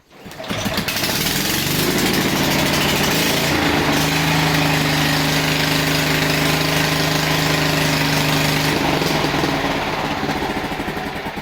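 Small lawn-care engine roars steadily for about ten seconds after a pull start, a loud, buzzing, continuous running drone close by with no talk.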